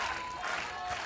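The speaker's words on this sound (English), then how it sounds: "The crowd loving it." A crowd at a men's gold medal beach volleyball match claps and cheers in a dense, continuous wash of applause heard from a distance, quiet but unbroken.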